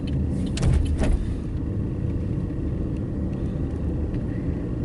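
A car rolls into a mall parking area with a steady low engine and road rumble throughout, a brief louder swell near the start, and no voices.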